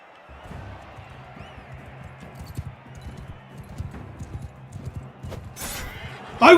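A horse gallops during a dwarven jousting tournament in the video game Mount and Blade 2: Bannerlord, its rapid hoofbeats clattering over a low crowd murmur, ending in a louder impact.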